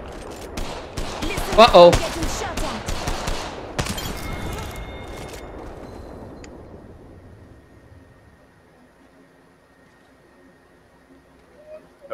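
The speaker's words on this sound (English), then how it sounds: "Oh, bro, you're shooting at me, that's where you are." Bursts of gunfire from the video game Apex Legends rattle in rapid fusillades during the first few seconds, then fade toward near silence, with a player talking over the shots.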